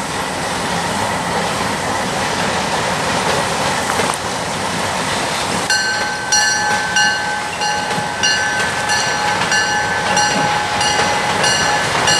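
An Alco C424 diesel locomotive on the Adirondack Railroad passes close by, its loud engine roar giving way to steady wheel noise, clanking cars and high metallic squeals from the rails as the train rolls through.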